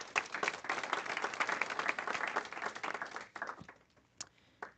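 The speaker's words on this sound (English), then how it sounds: "Let's give her a round of applause." An audience at a press conference gives a round of applause, with brisk, full clapping for about three seconds that then thins quickly into a few scattered, isolated claps before fading out.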